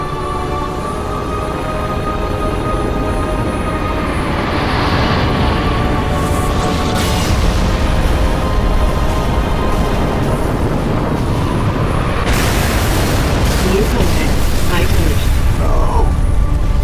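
Frigate MAC rounds strike in Halo: Reach amid a loud, continuous rumbling roar, with heavy booming impacts swelling mid-way and a bright crashing burst near the end.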